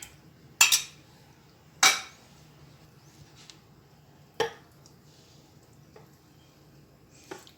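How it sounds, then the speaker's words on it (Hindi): A drinking glass is pressed onto cheese bread dough to make a pattern, giving a few sharp, close clinks and taps spaced a second or more apart, followed by softer knocks over a quiet room. "इस तरह ग्लास से हम डिज़ाइन बनाते जाएंगे।"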